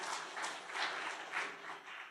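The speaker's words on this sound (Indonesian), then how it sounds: "Beri tepuk tangan dulu bagi Tuhan." A church congregation applauding during a Sunday sermon, soft distant clapping in gentle swelling waves, faint and continuous for about two seconds.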